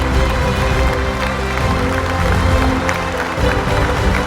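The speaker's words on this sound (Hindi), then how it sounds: "जोरदार तालियों से इनका स्वागत कीजिए।" Applause from a TV audience welcoming two sisters as finalists of a Bible quiz show's final round, a loud, dense, continuous roar of clapping with some crowd noise mixed in.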